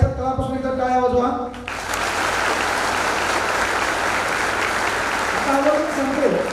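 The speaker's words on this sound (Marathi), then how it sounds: "यांच्यासाठी हृदयाच्या तळापासून एकदा टाळ्या वाजवा." An audience at a student felicitation event in Baramati breaks into loud, sustained applause right after someone speaks, and his voice returns as the clapping continues.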